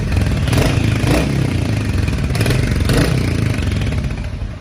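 A Royal Enfield Hunter 350 motorcycle engine idles with a deep, loud thumping rumble close by and is revved in several short throttle blips.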